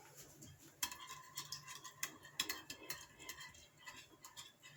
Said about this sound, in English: Now I'll mix it up.